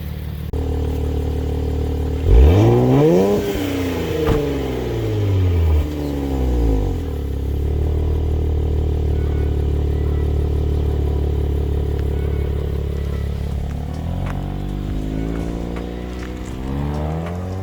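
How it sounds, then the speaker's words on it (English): A new Nissan Z starts to pull away, its engine rising in pitch through a couple of gears with clear upshift dips, then settling into a steady cruise and revving again near the end, recorded from inside the car with no one speaking. "So let's go for a little drive, y'all."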